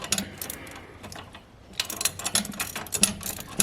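A ratchet with a universal joint socket clicks in quick, uneven bursts during subframe and engine mount work on a classic Mercedes W108/W109/W113/W111. The metallic clicks are close, with a short pause midway.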